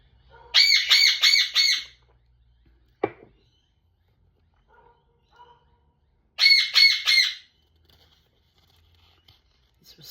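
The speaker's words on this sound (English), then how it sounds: "He's responding to a whole flock of birds out there calling. He's calling back out." A pet bird gives two loud bursts of rapid, harsh squawks several seconds apart, calling back to a flock, close and clear against quiet surroundings, with a faint click between.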